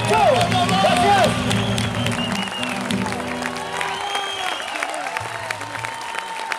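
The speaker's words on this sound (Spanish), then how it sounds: "¡El aplauso de todo Matadero!" Applause and cheering from an outdoor concert crowd at the Feria de Mataderos folk festival in Buenos Aires, loud at first and then thinning, with a shouting voice and lingering instrument tones mixed in.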